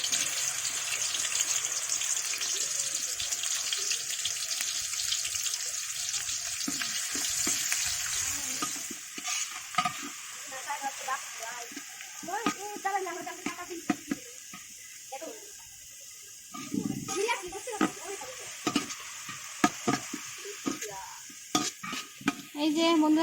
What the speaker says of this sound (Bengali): আগে বেরেস্তা ভাজে নিতেছে